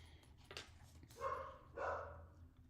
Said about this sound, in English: I don't know what she is barking at